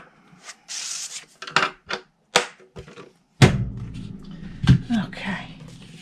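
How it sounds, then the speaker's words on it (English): Card stock is scored for a paper slider box, producing a run of short scraping and rubbing strokes with a few dull thumps on the work surface, close and fairly quiet. "we're going to score on the long side at 1 and 5"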